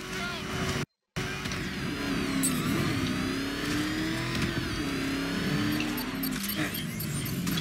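The Batmobile's engine in the PS4 video game Batman: Arkham Knight revs and whirs continuously with rising and falling pitch, close and steady, with a brief dropout near the start.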